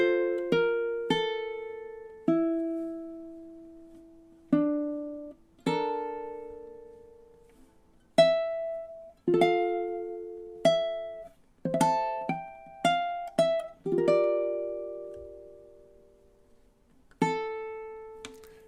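Ukulele chords and plucked notes spanning four bars of a slow ballad, strums spaced irregularly with some quick clusters, each ringing out; close and clean, played alone without talk.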